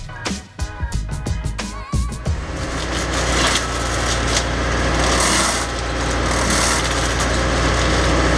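A tractor-mounted flail mower clears brush along a wood border, with sharp cracks and snaps of branches at first, then a loud, continuous whirring grind of the rotor chewing through vegetation.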